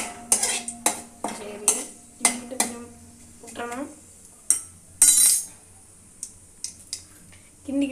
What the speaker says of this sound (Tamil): கிண்டிக்கிட்டே இருக்கணும் இல்லையா?